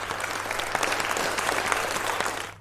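Audience applause fills the room, a dense, steady wash of many hands clapping together at close range, holding level and loud from start to finish with no voices rising above it.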